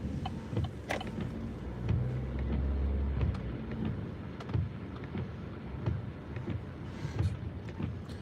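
Cars driving past on a slushy, salted winter road in Pennsylvania: a continuous low rumble of tyres and engines with a swelling pass in the middle, under wind buffeting on the microphone, with scattered thumps and no speech.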